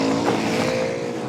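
A modified race car engine howls loudly and steadily as it heads into turn one on a short track, a single close, sustained tonal roar with no voices.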